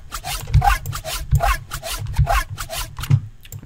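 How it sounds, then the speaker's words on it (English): A riddim bass patch from the Serum synth, with its comb filter modulated downward, plays as rhythmic growling wobbles over a repeating deep low thump, loud and close with no voices. "We're going to be modulating the combs filter down."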